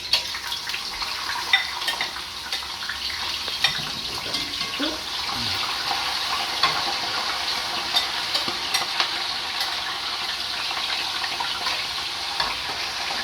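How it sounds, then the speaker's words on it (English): French fries sizzle and crackle in hot oil in a pan, a steady bright hiss with scattered pops, close and continuous throughout. "So now it's time to put your French fries in the hot oil."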